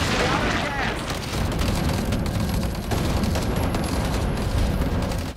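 Gunfire in the Earthfall video game, with a steady, loud barrage of shots and booms mixed into a constant wash of combat noise.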